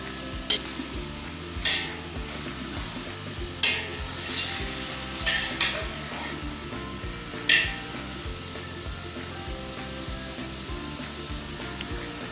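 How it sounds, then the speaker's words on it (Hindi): Mutton chops frying with yogurt in a pot, a constant low sizzle under repeated scraping strokes of a spoon against the pot, with several sharper knocks spaced irregularly, close and without talk. "अब हम इसमें डालेंगे 1 प्याली दही और इसे अच्छे से भून लेंगे"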